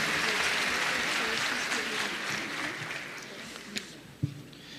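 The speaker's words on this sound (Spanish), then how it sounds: "Un aplauso," Broad applause from an audience at a forum on obesity, starting full and gradually fading away, with a couple of sharper knocks toward the close.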